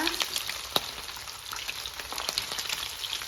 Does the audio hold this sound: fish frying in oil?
yes